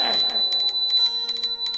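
A temple bell rings with a bright, sustained metallic tone. The quick strikes blend together over a short moment, loud and close.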